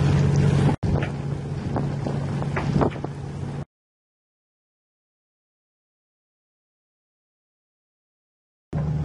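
A steady low yacht motor drone during a regatta race in Varna, with wind buffeting the microphone, lasting a few seconds before cutting to silence, then resuming briefly at the end.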